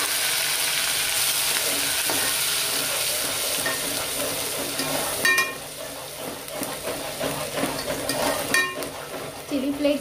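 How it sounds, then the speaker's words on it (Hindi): Onion paste fries in a pan over a low gas flame, a continuous sizzle with occasional stirring scrapes, while someone talks over it. "अभी ऑनियन का पेस्ट डाल के अच्छे से इसको भूनूंगी"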